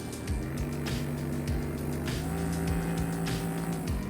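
A compact RecoverFun Mini massage gun motor runs at its lowest intensity setting, giving a steady buzzing hum with regular rhythmic dips, close and constant throughout, with no voices.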